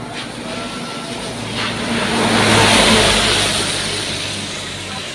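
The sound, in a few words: truck engine passing by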